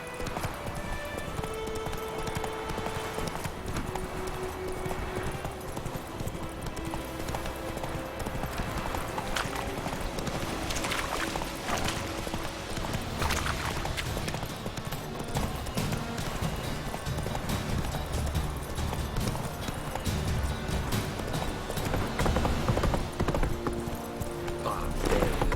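The horse Roach gallops in The Witcher 3, hooves clip-clopping in a fast continuous rhythm, with an occasional whinny, close and clear over the game's ambient backdrop.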